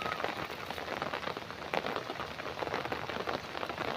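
Steady rain falls close by, a dense, even hiss of drops on surfaces with no pauses and no voices.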